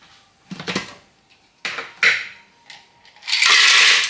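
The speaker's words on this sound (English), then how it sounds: "In goes the ice." Several short crackling bursts of ice cubes tumbling into a blender, ending in a louder sustained rattling crunch, no voices.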